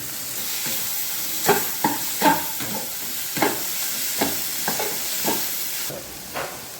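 Carrots and curry leaves sautéing in a hot pan, a steady oily sizzle broken by repeated scraping stirs of a spatula at an uneven rhythm, close and moderately loud with no voices.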